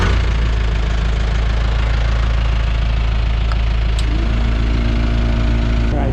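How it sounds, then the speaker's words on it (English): An ExtremeAire Magnum M1161 off-road air compressor runs loudly and close, with a constant heavy pulsing drone and motor knock that holds steady throughout. "we'll see the decibel reading of the sound of the compressor"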